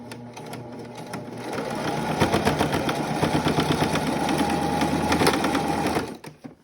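A sewing machine stitches across a homemade protective fabric mask, closing a small hole at a corner: a steady, close mechanical whir with rapid needle ticking that builds slightly and runs continuously before stopping abruptly near the end.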